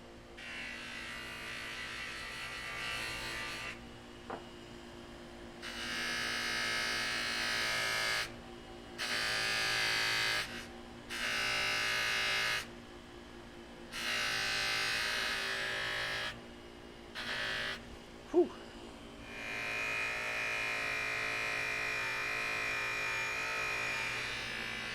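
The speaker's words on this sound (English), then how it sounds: "So just want to explain that now so I won't have to talk over the buffing wheel." A buffing wheel polishes metal estate-sale finds with white or red compound, its bright whirring rising in several separate bursts of varying length with short pauses between, then running steadily to the end.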